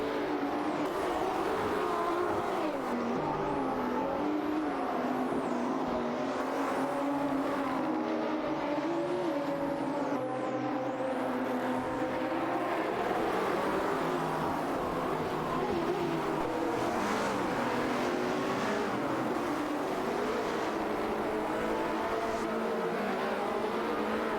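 Race cars in an AI-driven video game racing event roar and rev continuously, engines rising and falling as cars pass and jockey for position, fairly loud with overlapping whines and no talking.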